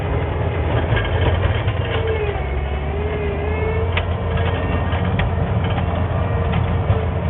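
A snow plow engine idles steadily, a continuous low rumble holding at an even, fairly loud level with faint higher whine throughout.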